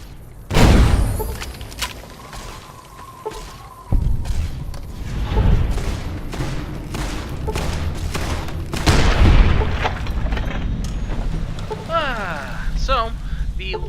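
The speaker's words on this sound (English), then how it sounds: "The larger explosions were some of my mines." Several heavy land mine explosions in Fallout: New Vegas boom and thud at intervals amid rattling gunfire and chaotic game noise, with a voice speaking intermittently over the action.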